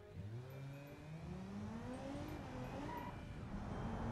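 A 3.0 liter car engine in the BeamNG driving game revs steadily, its pitch rising and falling across several climbs, loud and close throughout with no talk.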